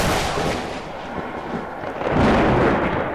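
Gunfire in the video game Roblox, a dense, continuous rumble of booming shots and blasts filling the whole stretch, swelling louder toward the end.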